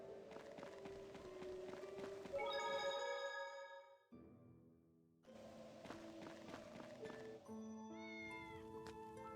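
A cat in Tales of Xillia 2 meows repeatedly, drawn-out calls over game music, loud and close, with a brief quiet gap midway.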